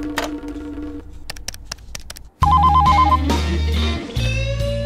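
A telephone rings in a tonal repeating pattern, with single chime-like hits first, then a louder ringing burst layered over a musical backdrop.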